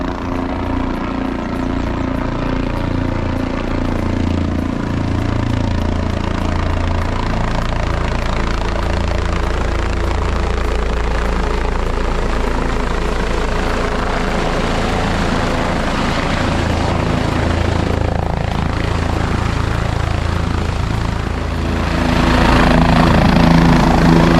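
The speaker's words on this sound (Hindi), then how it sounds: "आज के दिन का पहला हेलीकॉप्टर आ रहा है।" A helicopter's loud, continuous rotor thrum and engine roar fills the scene at Kedarnath in the early morning, growing slightly louder near the end as it comes in close.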